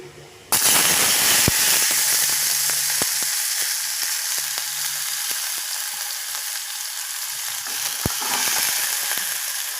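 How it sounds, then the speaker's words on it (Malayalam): Raw plantain hits hot oil with mustard seeds in a pan, bursting into a loud, dense, continuous sizzle with occasional pops and crackles, close up and alone. "അപ്പോൾ എണ്ണ ചൂടായിട്ടുണ്ട് അതിലേക്ക് നമുക്ക് തോരാൻ വെച്ച ഏത്തക്ക ഇട്ട് കൊടുക്കാം"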